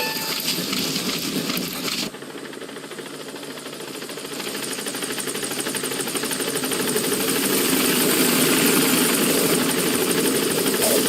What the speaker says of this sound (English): Please select a support helicopter Roger. requested.